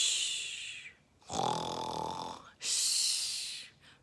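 A storyteller's voice imitates a bear snoring, giving soft drawn-out snores and breathy snorting inhales in a slow repeating rhythm, close and quiet.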